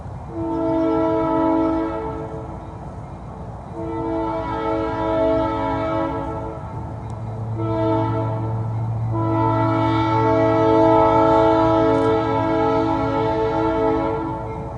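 A loud freight train horn sounds in long sustained blasts with brief gaps, over the steady low rumble of the engine passing close by.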